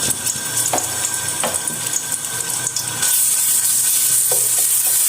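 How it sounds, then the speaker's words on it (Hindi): Garlic and ginger paste frying in hot oil while cooking goat trotters curry, a steady, fairly loud sizzle that grows brighter and more intense partway through, with occasional light stirring scrapes. "लहसुन अदरक को 1 मिनट तक हम इस तरह फ्राई करेंगे।"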